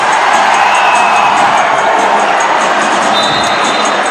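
Basketball crowd at an MPBL game between Muntinlupa and Zamboanga City roaring and cheering in a dense, sustained wash of voices, loud and continuous throughout with a brief whistle-like tone near the end.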